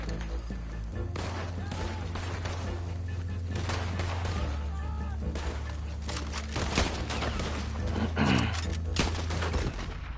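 Rapid gunfire in Red Dead Online, with a pump action shotgun among dense, continuous shots and booms layered over steady game music and ambience for the whole stretch.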